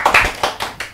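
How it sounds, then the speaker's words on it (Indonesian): A few hand claps in a podcast studio, sharp and close, landing in an uneven burst of roughly five to six strikes over one second with nobody speaking. "Tepuk tangan dulu"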